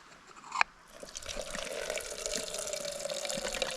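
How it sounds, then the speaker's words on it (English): Water being poured and drained off from a pot while preparing backcountry goulash from a dehydrated backpacking meal, a steady close trickle and splash that starts after a brief clink and continues alone. "So I'll drain some water off first."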